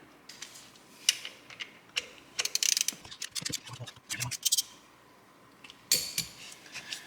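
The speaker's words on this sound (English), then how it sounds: "Now we're going to replace this tensioner with the new tensioner." Hand tools clicking and ratcheting while a belt tensioner is replaced on a Ferrari engine during a major service, with irregular bursts of sharp metallic ticks, clinks and rattles between quiet gaps.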